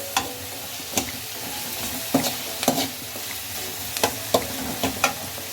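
Spoon stirring sugar into onions in a pan while making poha, with soft scraping strokes and a few sharper clinks against the pan over a low, steady sizzle.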